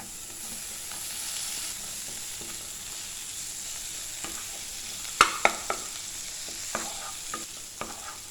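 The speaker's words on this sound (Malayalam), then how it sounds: "തക്കാളി ചേർത്തിട്ട് നന്നായിട്ടൊന്ന് ഇളക്കി കൊടുക്കുക" Tomato stirred into sizzling masala for a Kerala-style okra curry, a steady frying hiss with a spoon scraping and knocking against the pan in a few sharp clicks toward the end.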